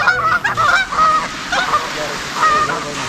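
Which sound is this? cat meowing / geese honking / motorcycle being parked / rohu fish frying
geese honking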